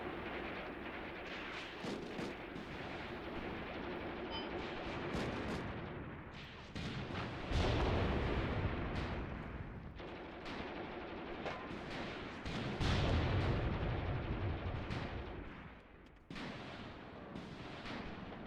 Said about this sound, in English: Damn, MG's going crazy.